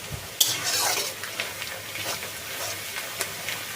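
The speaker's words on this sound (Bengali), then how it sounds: "পেঁয়াজটা এবার লাল লাল করে ভেজে নেব।" Onions fry for biryani in a pan, giving a soft, quiet sizzle while a utensil stirs and scrapes them, with a few sharp metallic clinks against the pan.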